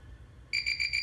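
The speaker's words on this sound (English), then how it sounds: "until the alarm is finished sounding, it's going to keep enabling itself" An APC Back-UPS XS 1500G with a failing battery starts its alarm midway, a loud, steady high-pitched electronic beep that pulses continuously, preceded by a quiet low hum.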